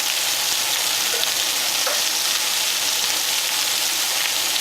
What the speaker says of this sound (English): I'm going to throw in my potatoes so they can grab some flavor.